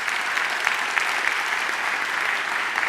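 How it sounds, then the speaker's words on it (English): Steady, dense applause from an audience at a fundraising gala, honoring a panel on stage; even, sustained clapping fills the room without a break, loud and close, with no voices standing out. "let me give us a round of applause for our panel up here on stage"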